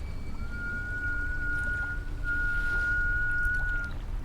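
A faint, steady whistle drifts through a Dungeons and Dragons tabletop game session, holding one thin tone for about three and a half seconds over quiet room noise, with no talking.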